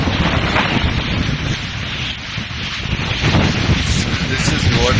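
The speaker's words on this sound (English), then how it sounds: "the wind is crazy here" Strong wind buffeting a microphone at a campsite in Nepal, a loud, steady roar of rumbling gusts that lasts throughout with no pauses.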